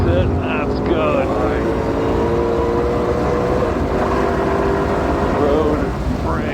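A Shelby GT500 on the Ozarks International Raceway circuit accelerating hard, its engine a steady loud drone with rising pitch that persists through the whole stretch, while a voice talks over it.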